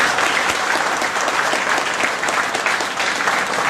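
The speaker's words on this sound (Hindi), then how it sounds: "एक बार जोरदार तालियां बजाइए आप लोग" A crowd at an election campaign rally in Munger claps loudly and continuously, a dense even wash of applause with no voices breaking through.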